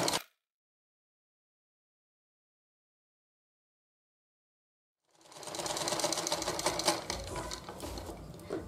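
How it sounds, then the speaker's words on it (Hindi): A sewing machine stitches a fabric shopping bag, starting after a long silence with a steady, close, rapid mechanical chatter that runs to the end. "तो हम इस पे सिलाई लगाते हैं।"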